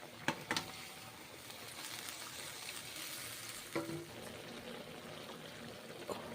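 Fried paneer pieces go into a pan of simmering paneer mushroom curry, with a quiet, steady sizzle, a few clinks and scrapes at the start, and another stir partway through.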